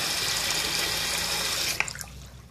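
Water gushing from a Moen Chateau faucet into a patio sink, a steady loud rush that cuts off near the end, leaving a few drips and splashes.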